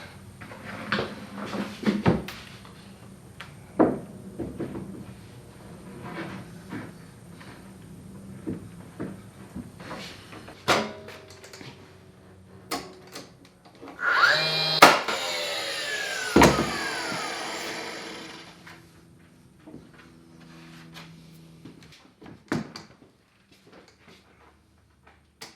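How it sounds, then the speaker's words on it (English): Plywood panel being mounted onto a DIY oven cabinet in a kitchen remodel: scattered knocks, taps and wooden thuds, with a louder buzzing power-tool burst in the middle and quieter handling noises around it. "Let's go ahead and mount this plywood panel."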